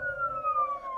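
A police siren sound effect wails for a second, one clear tone sliding slowly downward with a fainter harmonic above it, loud and alone.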